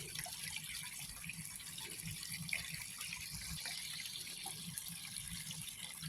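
Water runs steadily through a sluice box during gold prospecting, a faint continuous trickling and splashing flow with small drips, no voices.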